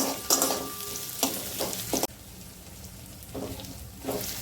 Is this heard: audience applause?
no